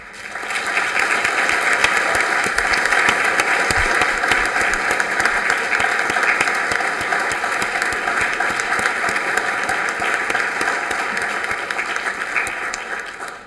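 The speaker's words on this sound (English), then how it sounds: "join me in another round of applause for all of our honorees" An audience applauds honorees at a city commission meeting, a sustained, even wash of many hands clapping for over ten seconds before fading slightly at the end.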